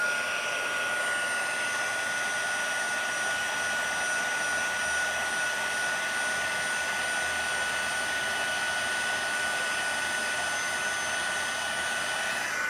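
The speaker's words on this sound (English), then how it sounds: "I'm going to put some gold embossing powder on that. And again, with my heat tool" A handheld heat tool blows steadily as it melts gold embossing powder on a sweet jar craft project, a continuous close whirring hiss that holds at an even level with no talk.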